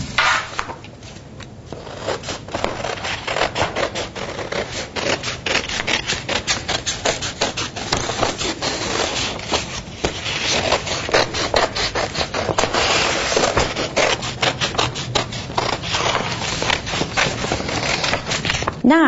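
Scissors cut a fish shape out of folded construction paper, close up, producing a long run of crisp repeated snips and papery rustling at a fairly even rhythm.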